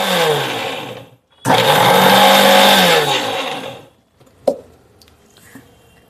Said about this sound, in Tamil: இப்போதைக்கு இதெல்லாம் மிக்சியில் போட்டு அரைச்சிட்டு வந்துடலாம்.